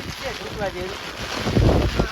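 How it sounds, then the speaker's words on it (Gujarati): Strong, gusty wind roars across the microphone in a steady rushing buffet during heavy rain in a village, with a muffled voice briefly audible early on. "પવન વધી ગયો છે થોડોક હવે વરસાદે"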